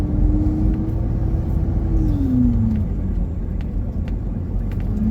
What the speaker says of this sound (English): God, it sounds like my 4-wheel drive's engaged.